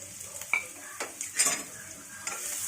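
Chopped onions dropped into hot mustard oil in a pan, a steady sizzle with a few scraping stirs and faint utensil clinks.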